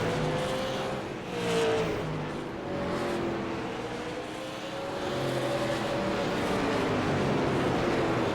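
Super late model race cars racing at Southern National, a steady loud engine roar with rising and falling pitch as cars pass and rev around the track, continuous and without talk.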